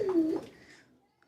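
A single pigeon coos close by at a pigeon farm, one short throaty call that fades out within about a second into quiet.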